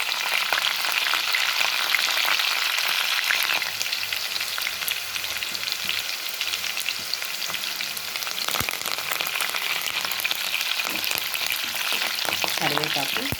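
Green chillies hit hot tempering oil with fenugreek seeds and sputter into a dense, steady frying sizzle, joined by scattered pops and occasional stirring scrapes throughout, with no voices.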